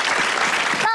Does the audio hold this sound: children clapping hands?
yes